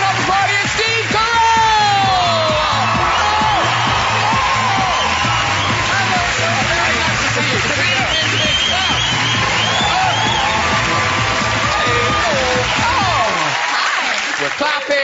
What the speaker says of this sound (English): We're clapping, we're cheering, it's lovely.